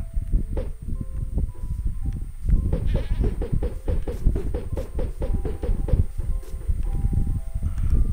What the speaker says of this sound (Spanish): Hola, cabra.